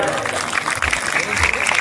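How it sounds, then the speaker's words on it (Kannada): A crowd applauds at a book festival procession ceremony in Navadagi village, a burst of clapping mixed with voices. "ಜೋರಾದ ಚಪ್ಪಾಳೆ"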